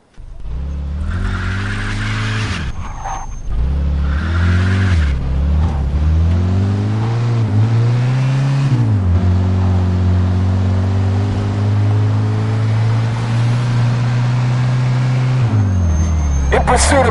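A car in the game Mafia II: Definitive Edition races at speed, its engine droning loudly and rising in pitch through several gear changes, with a sustained high run in the second half.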